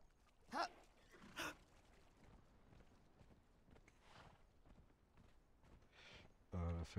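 Hoofbeats of a ridden horse in the video game Conan Exiles, a steady soft clip-clop rhythm at moderate distance, with a couple of louder thumps, under faint background noise.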